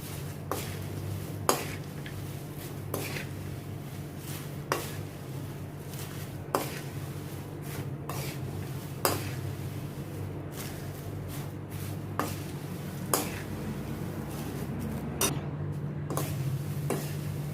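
Roasted poha chivda mixture being stirred and tossed in a pan, giving a steady scraping rustle with regular clinks of a spoon against the metal roughly every second, close and moderately quiet under a low steady hum.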